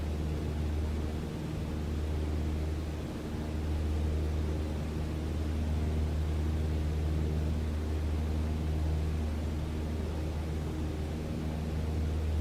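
Light aircraft engine droning steadily with RPM raised to 2300 in level flight near mountains, a constant loud hum with strong low tones and no pauses.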